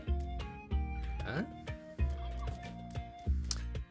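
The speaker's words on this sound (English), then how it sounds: "Free idol, there's gonna be turkeys and turkeymen, which we're gonna summarily ignore, of course." Turkeys gobble inside the Spelunky 2 video game, a repeated warbling burst from the game's turkey creatures over steady background music and game sounds, with someone talking over it.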